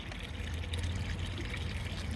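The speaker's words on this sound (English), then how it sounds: "It's just water to help squirt everything down" Water squirting down gold mining equipment during a clean-out: a steady, dense hiss of spraying and splashing water, close and continuous, with no voices.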